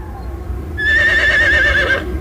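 A mare on a farm whinnies once, a loud, close, wavering neigh lasting just over a second above low background rumble.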